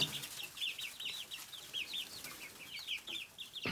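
Growing chicks cheep in a rapid, high-pitched chorus, faint and continuous, with no voices.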